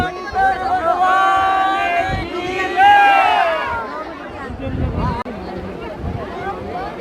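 Dense festival crowd at the Gangaur royal procession in Bidasar, Sujangarh: a steady hubbub of many voices with rising cheers and chants, a few sharper tonal calls riding over the babble.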